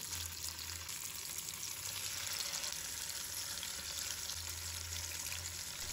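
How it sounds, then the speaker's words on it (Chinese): Pork belly frying skin-down in cooking oil over medium heat, a steady, dense crackling sizzle that stays even and close for the whole stretch with no voices. "锅中加入食用油， 然后开中火，猪肉的皮的部分朝下贴紧锅底"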